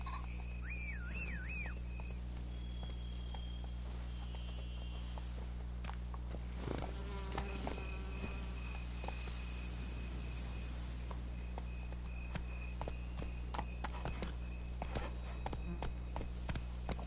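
Hooves of Geralt's horse Roach in The Witcher 3: steady clip-clop footfalls, close and moderately loud, over a low humming background with occasional whistles and a brief voice.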